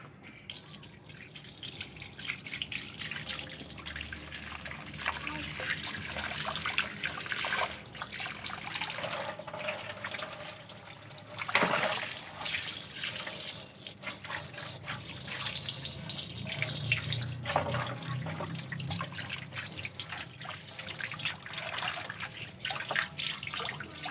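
Tap water runs and splashes steadily as a new wok is rinsed in a sink, with trickling, dripping and shifting water sounds throughout, close and without talk.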